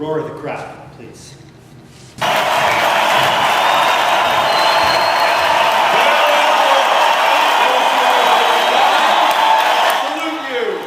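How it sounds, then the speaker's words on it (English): A dense, roaring crowd swells in abruptly after a quieter opening and holds as a loud, steady wall of cheering and shouting, easing slightly near the end, used as a radio-style sound effect. "The roar of the crowd, please."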